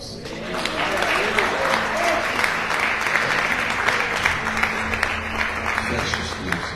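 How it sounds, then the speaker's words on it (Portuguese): Congregation applause during a church sermon, a steady burst of clapping from a sizable gathering with some voices mixed in underneath. "Dá um aplauso, Senhor."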